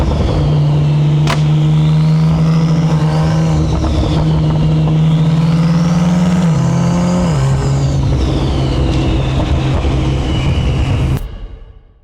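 A tuned 1500 bhp Porsche 992 Turbo S accelerates hard, with a loud sustained engine drone rising in pitch through gear changes for about eleven seconds before cutting off abruptly.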